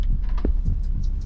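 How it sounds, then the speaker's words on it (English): A heavy heartbeat throbs in the Song of Horror horror video game, low repeated thumps pulsing steadily under a droning hum, close and alone with no talk. "Why is his heart beating so much?"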